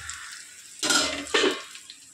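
A lid set onto a kadai of cooking fish, two short metallic clanks about half a second apart over a faint background hiss.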